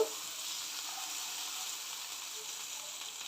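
A spice paste sautés in oil in a pan, giving a faint, steady, even sizzle with no talking.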